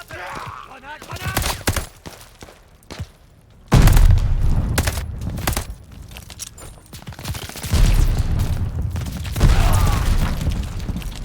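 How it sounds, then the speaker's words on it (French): Grenade blasts and heavy gunfire in the World War II shooter game Call of Duty: Vanguard, with a loud booming explosion at about four seconds, a second burst later, and continuous rattling shots and battle noise throughout. "Grenade, grenade!"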